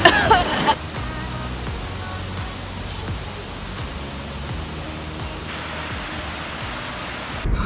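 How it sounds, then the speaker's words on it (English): Water rushing over DuPont waterfall near Asheville produces a steady, close broadband roar that fills the whole stretch, with a brief voice-like sound at the very start. "We are by the DuPont waterfall, and it's lit."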